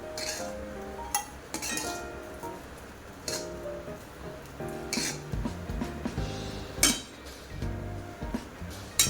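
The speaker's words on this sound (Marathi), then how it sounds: "तर प्लेटमध्ये काढून घेते" A spicy snack made from leftover chapati is served from a pan onto a plate, with light clinks and scrapes of a utensil against metal and plate, close up and without talk.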